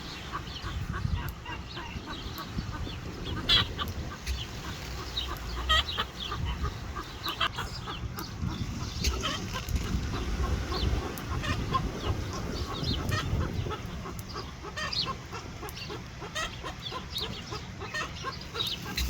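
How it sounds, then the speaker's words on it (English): Bantam chickens living under lilac bushes cluck and call repeatedly at close range, a busy stream of short irregular clucks and squawks with no talking. "Hey guys, what's going on, chickens? But these are our bantams"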